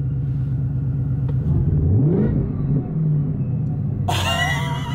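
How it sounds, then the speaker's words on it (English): A supercharged Ford Mustang engine idles with a deep, loud rumble, blips once in a short rising rev, then opens up into a sudden loud, high-pitched roar with supercharger whine near the end. "can you guys hear that massive supercharger?"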